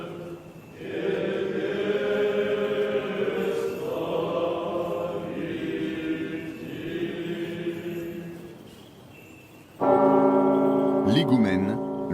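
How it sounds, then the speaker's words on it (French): Church bells at the Russian Orthodox Easter service at Valaam monastery, several bells in long resonant tones with a sudden louder peal near the end, sounding across an open churchyard. "Moines et fidèles se rassemblent sur le parvis de l'église en attendant que les cloches sonnent."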